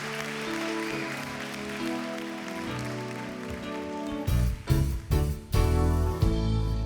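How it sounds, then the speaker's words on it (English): An audience applauds a singer's introduction at a Vocal Fusion vocal competition show. Broad clapping sits under a music backing track, which swells into loud, bass-heavy music partway through. "please give a massive, massive, massive round of applause for Timothy Tahura"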